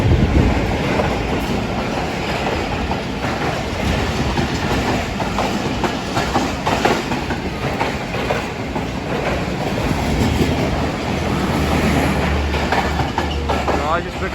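A non-stop express train passing through a station platform in Pakistan, a loud, continuous close roar of wheels and carriages with rhythmic clatter throughout, and a voice faintly under the noise.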